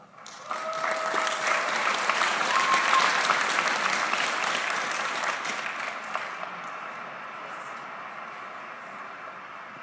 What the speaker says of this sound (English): he's an honorable and extraordinary man, and I think that in itself deserves a round of applause